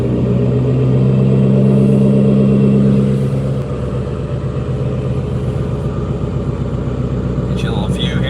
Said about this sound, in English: So now I'm actually going to give it full throttle and do a full pull